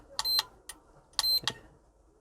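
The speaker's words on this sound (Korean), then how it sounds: "끝나고 나면은 알람 빵빵빵 뜹니다" An iMAX B6 battery charger sounds its finish alarm with short, shrill electronic beeps in quick pairs and triplets, separated by brief pauses. The beeps are clear and close in an otherwise quiet room.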